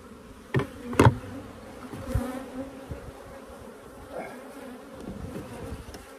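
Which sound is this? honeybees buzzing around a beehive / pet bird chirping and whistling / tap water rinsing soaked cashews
honeybees buzzing around a beehive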